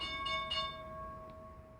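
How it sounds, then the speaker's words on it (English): A stock market closing bell rings with a sustained, steady metallic tone that lingers under a faint hum, with a couple of brighter strikes near the start. "and there's the bell"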